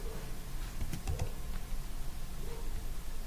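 Keys on a computer keyboard tap in a few soft, scattered clicks and short bursts over a steady background hiss, with no talking.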